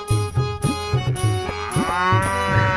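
Cattle low in short repeated moos, close by, with a rhythmic clopping and rattling underneath.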